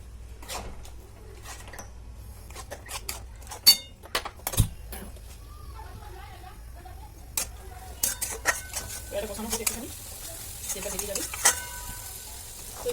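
Masala sizzling and frying in oil in a pan while being stirred, with scattered utensil scrapes and clinks over a steady crackle, for a Bihari chicken curry with Kashmiri chilli added.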